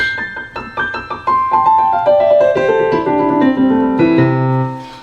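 Ascending keyboard arpeggio, notes struck one after another and ringing into each other, climbing steadily in pitch before settling on a low sustained note.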